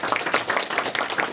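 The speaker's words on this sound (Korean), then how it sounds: "다시 한번 뜨거운 박수로" Warm applause from an audience at the opening ceremony of a Yi Sun-sin leadership school class in Yeosu: a short, lively burst of many hands clapping nearby, with no speech over it.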